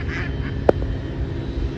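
One short duck quack rings out over steady outdoor background noise, fairly close and clear.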